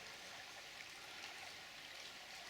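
River Ure water flowing beneath the ancient stone Kilburn Bridge, whose pillars stand on Roman bridge remains, makes a steady, unbroken rushing wash that stays soft and even throughout.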